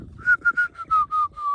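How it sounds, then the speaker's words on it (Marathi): A person whistles seven short, clear notes in a quick run, close and alone, with a low rumble underneath. "शिट्टी मारतोय मी"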